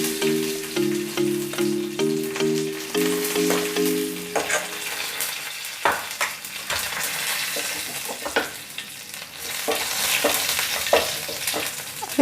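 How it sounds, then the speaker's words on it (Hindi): A few curry leaves dropped into hot oil for a semolina potato sandwich recipe, crackling and sizzling loudly, with stirring scrapes as the frying continues. "अब ये इसमें 3-4 करी पत्ता डाल देंगे।"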